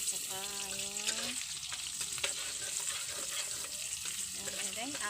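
Onion and garlic frying in rendered pork fat, a steady sizzle and crackle with occasional stirring scrapes, joined briefly by a faint voice-like tone.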